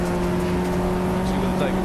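BRSCC Clubsport Trophy race cars hum steadily along Exhibition Straight at Donington circuit. The engine tones hold an even pitch for a short stretch under race commentary.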